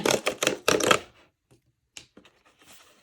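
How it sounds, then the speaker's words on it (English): Cardboard box of a Magic: The Gathering commander precon torn open: several sharp, rapid ripping bursts close to the mic, then near silence broken by a few small handling clicks and rustles. "I will tear this open."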